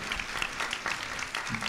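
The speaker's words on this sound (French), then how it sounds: "Vous pouvez les applaudir." An audience at a talk applauds briefly as guests enter the room, a steady patter of clapping hands at moderate volume with a voice briefly heard near the end.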